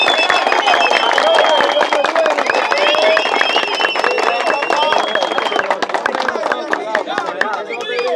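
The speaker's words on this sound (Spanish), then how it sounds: "Quiero un fuerte aplauso para Gaby" A crowd at a youth rally for PLD candidates in Villa Bogaert claps and cheers for Gaby. The dense, steady applause lasts throughout, with voices mixed into it.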